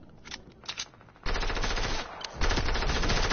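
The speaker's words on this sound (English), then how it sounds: "I just hit a 58 headshot with this pistol. Two shots and killed him." Pistol gunshots in a shooter video game, a few sharp reports early followed by sustained loud bursts of rapid gunfire that fill the rest of the moment.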